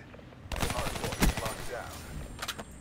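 Rapid gunfire bursts ring out in Call of Duty Black Ops 3 competitive multiplayer, several quick cracking volleys at moderate level, with a player's voice talking over the shooting.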